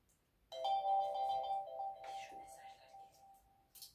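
A phone message notification chime rings out in a quiet kitchen, a bright tonal alert sustained for a few seconds and slowly fading, with faint background clatter and a brief later blip.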